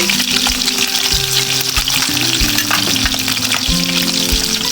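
Snakeskin gourami fish frying in a pan over medium heat makes loud, dense, continuous sizzling and crackling close up, with faint bumps of utensils, and no voices.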